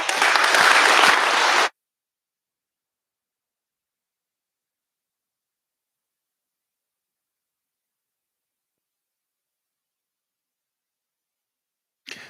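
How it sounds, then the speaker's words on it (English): An audience at a startup pitch night bursts into applause, a dense burst of clapping lasting under two seconds, followed by silence and a faint return of sound at the very end. "No more questions. I've had a round of applause for Rob"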